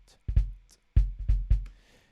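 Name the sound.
short kick drum with sustain removed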